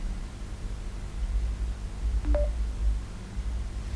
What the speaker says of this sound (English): Let me put my phone on silent mode so that we can be able to learn.